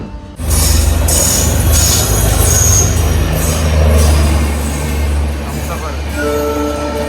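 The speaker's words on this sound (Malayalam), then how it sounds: "ഇത് ബാർമീർന്ന് ബാന്ദ്ര പോകുന്ന ഹംസഫറാണ് കേട്ടോ" A Barmer–Bandra Humsafar Express train passes close by with a loud, steady rumble of wheels and carriages, sustained throughout with brief tonal squeals near the end.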